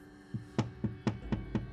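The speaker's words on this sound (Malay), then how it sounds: "tapi tingkap diketuk sekali lagi" Five sharp knocks on a window pane land at irregular, fairly quick intervals, close and distinct against a quiet background hum.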